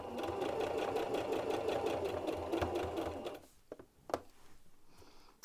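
A sewing machine stitches stretched T-shirt fabric with a fast, steady mechanical whirring and rapid needle chatter, close and loud, then stops and leaves a few faint clicks and handling knocks.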